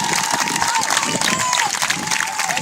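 Dense crowd cheering and clapping at a Save the Palace Theatre rally in Melbourne, a loud continuous roar of voices and applause with scattered shouts throughout.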